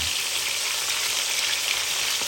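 Pork chops fry in a hot pan with a steady, dense sizzle and crackle, spattering oil popping throughout, close and continuous with no talk.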